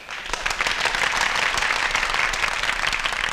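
Dense crowd applause from a Tamil movie scene, steady, loud clapping filling the whole stretch without a break.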